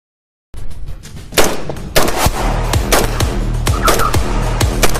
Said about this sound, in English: the AK-47 is a gas-operated firearm with a wooden buttstock